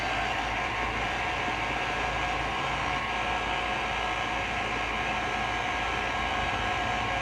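A steady, loud hair dryer roars without pause, a broad rushing hiss with a low hum underneath, used while bathing a pet.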